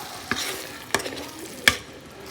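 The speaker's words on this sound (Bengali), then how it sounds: "এর মধ্যে দুধ দিয়ে দিই দুধটা দিয়ে আর একটুখানি কষিয়ে নেব" Coconut milk goes into sautéed spices for a pointed gourd curry, and three crisp spatula clacks against the pan ring out about half a second apart over a faint simmering hiss, nearby with no talk.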